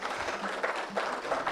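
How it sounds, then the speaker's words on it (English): Audience applause for a team at a community forum, a brief burst of steady, moderately loud clapping with no speech over it. "request you, the audience, to clap for this team"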